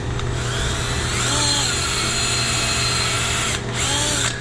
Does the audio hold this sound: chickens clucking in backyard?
no